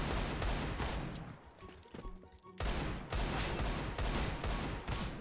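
Rapid spray of gunfire in CS:GO, several loud close bursts of automatic shots separated by a brief lull, with voices talking over the action.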